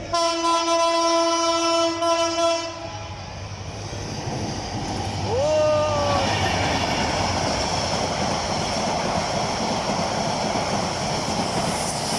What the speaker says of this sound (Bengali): আপনাদেরকে কক্সবাজার এক্সপ্রেসের মতো সুবর্ণা এক্সপ্রেস ট্রেনও দেখাবো। উজ্জ্বল ধূসর বর্ণের হলুদ আলো দিয়ে আসছে।